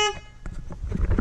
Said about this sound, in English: I gotta show you guys this train horn. It's so loud.